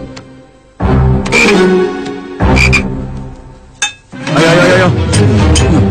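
Frogs croak loudly in repeated bursts from close by, with short pauses between calls, set in an Indonesian TV drama meal scene.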